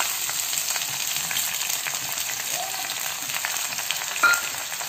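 Chopped onions fry in a pan with garlic and red chilli, giving a steady, close sizzle that crackles without pause and carries no talk.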